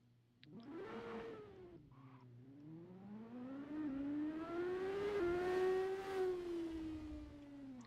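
A racing car engine in the Assetto Corsa video game revs up, dips, then climbs again in a long smooth rising and falling whine, fairly faint.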